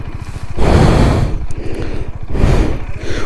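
A Royal Enfield Bullet 350 single-cylinder motorcycle stuck off-road on uneven ground, its engine revving hard in two loud, close surges over a steady low thumping idle.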